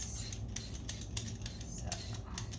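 Vegetable and chicken soup ingredients are being cut into small pieces, giving sharp, crisp snips or chops at a steady pace of roughly two per second, close and fairly quiet, with no talk.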